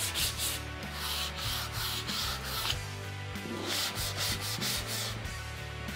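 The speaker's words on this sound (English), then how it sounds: "A little bit of sandpaper just to finish it off." Sandpaper rubs back and forth over a wooden foot stool in quick, regular strokes, a close, scratchy rasp repeating steadily throughout with no talking.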